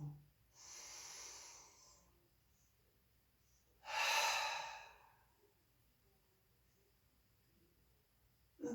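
Two slow, deep breaths during a gentle chair yoga session, each a soft airy exhale lasting over a second, with quiet pauses between them in a calm room.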